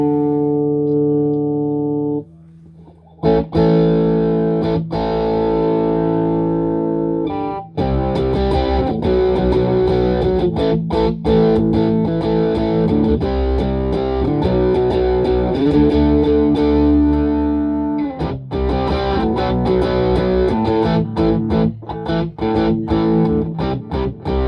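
Electric guitar through a repaired Fender FM210R amp on its drive channel, reverb turned down. A few clean notes give way to loud, close, overdriven chords and riffs that run continuously with brief pauses and no voices.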